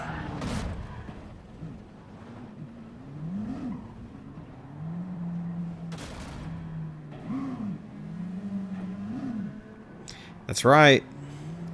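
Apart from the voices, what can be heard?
race car engine on the final lap, from a racing video game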